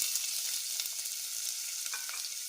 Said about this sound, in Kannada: ಎಣ್ಣೆಯಲ್ಲಿ ಸಾಫ್ಟ್ ಆಗೋ ತನಕ ಹುರ್ಕೋಬೇಕು.